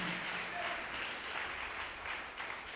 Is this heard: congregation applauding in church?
yes